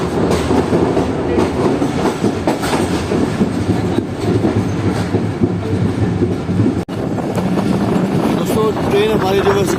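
Rehman Baba Express train running through Kot railway station in dense winter fog, a loud, steady rumble with rhythmic wheel clatter throughout, heard from on board.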